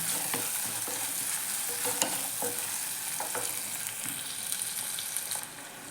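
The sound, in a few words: sautéing small onions (shallots) in a pan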